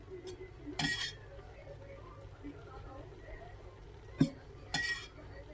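A small spoon clinks against a metal pot while homemade ghee is added spoonful by spoonful to dum biryani, a few sharp, bright taps spaced apart over a quiet kitchen background, with someone speaking.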